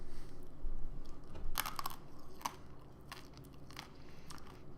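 Someone chewing crunchy whole coffee beans up close, giving a few sharp crunching bites followed by softer grinding chews and crackles, quiet and intimate with no talk.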